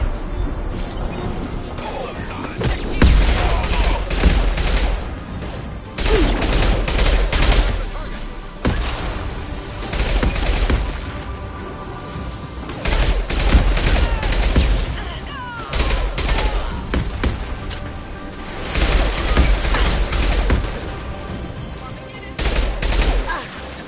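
Repeated bursts of automatic gunfire from a Mass Effect 2 firefight, loud and close, arriving in several volleys separated by brief lulls, with some speech mixed in.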